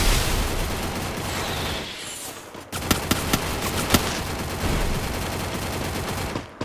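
UMP submachine gun firing in a video game, heard as repeated bursts and sharp individual shots over a dense, noisy battle background, loud and close, with a brief quieter gap partway through.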